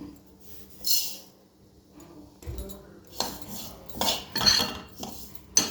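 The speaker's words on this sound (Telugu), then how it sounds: "ఫస్ట్ కడాయి పెట్టుకొని నువ్వులు వేయించుకుందాం" Sesame seeds roasting in a metal kadai pan, with close metallic clinks and scrapes from stirring the pan, sparse and uneven and rising in the second half, with no speech.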